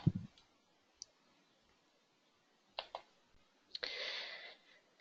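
A computer mouse gives a few sharp, quiet clicks spaced apart, with a brief brushing rustle near the end against near silence.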